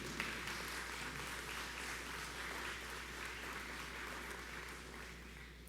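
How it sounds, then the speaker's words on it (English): Graduates at a nursing pinning and commencement ceremony applaud their families and friends, a steady, dense wash of clapping from a large crowd heard at a distance, with low hum beneath and no clear speech. "Would the graduates please show their appreciation by a round of applause to your family and friends."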